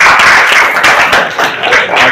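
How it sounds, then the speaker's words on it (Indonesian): A classroom of students claps for a student group, a loud, dense burst of close applause that fills the whole moment. "Tepuk tangan untuk kelompok auditori."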